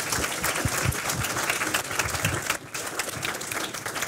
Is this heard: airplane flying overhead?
no